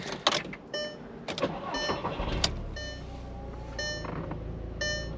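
A salvaged car bought at auction is restarted: a short cranking burst and engine catch, followed by a steady low idle with intermittent chiming warning tones over the running motor.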